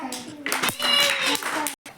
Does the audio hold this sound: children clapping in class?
yes